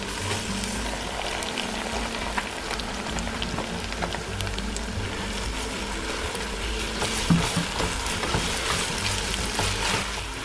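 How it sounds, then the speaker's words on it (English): Blended peppers fry in hot oil for Nigerian ayamase stew, giving a steady, dense sizzle and crackle close by with occasional stirring scrapes and no talking. "I'm going to fry this until the oil comes back, like settles on top of the peppers again"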